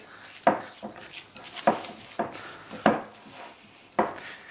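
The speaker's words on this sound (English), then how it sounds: "So I'm going to mix this all up nicely" A ground bison kofte mixture with grated onion is worked by hand in a bowl: about five soft, rhythmic thuds and squishes spaced a second apart, close and quiet, with no talking.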